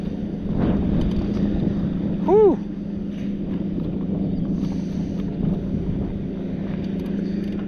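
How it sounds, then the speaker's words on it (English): Steady wind buffeting the microphone on a fishing boat during a bass fishing tournament in the Ozarks, a constant low roar throughout with a brief whistling tone partway through. "Too windy."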